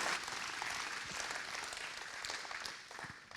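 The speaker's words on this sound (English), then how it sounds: "Give an applause to Fleur." Soft, continuous applause from an audience at the BredaPhoto 2020 opening for a photographer named Fleur, evenly textured clapping heard at a distance and fairly faint.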